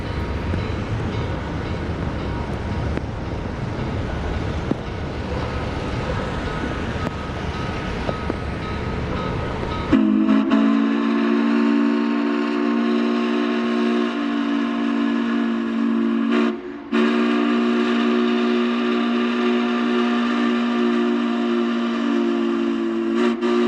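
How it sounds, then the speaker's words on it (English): Western Maryland 1309 steam locomotive rumbles past, then a loud, sustained steam whistle blasts for over ten seconds with a short break, echoing strongly down a river valley. "Even from a distance, 1309's whistle is deafening as it echoes down the river valley."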